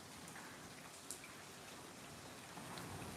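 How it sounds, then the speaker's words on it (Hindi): Rain falls outside in a soft, even hiss of patter, faint and distant, with no voices. "ओ माय गॉड हियर बारिश राइट नाउ।"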